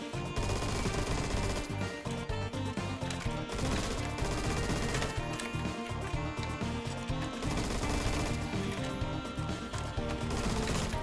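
Rapid automatic M16A1 rifle fire in the Phantom Forces video game, with steady repeated bursts under a loud layer of background music and no talking.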